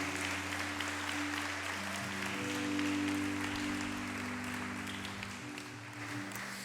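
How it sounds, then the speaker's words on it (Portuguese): Church congregation applauding during a sermon, a broad steady wash of clapping over sustained organ or keyboard tones, loud and continuous throughout. "vamos aplaudir o Senhor"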